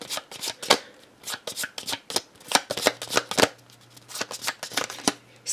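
A hand of a few playing cards is shuffled and riffled close by, brisk repeated snapping clicks in quick bursts with short pauses between, while a voice talks over parts of it.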